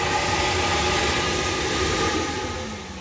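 A flow bench pulls air through a Ford Cobra GT40 intake manifold, producing a loud, steady roaring whoosh with a constant tonal drone that tapers slightly toward the end.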